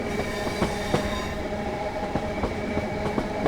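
Train in the Train Sim World 5 game running on a heritage railway at about 50 mph, a steady rolling rumble with rhythmic clickety-clack wheel beats on rail joints, continuous and fairly close, with no voices.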